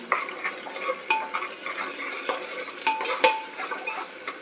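A spoonful of ginger garlic paste stirred into golden-fried onions in a pan, with repeated sharp spoon scrapes and clinks against the metal over a soft ongoing sizzle, close by and without talk.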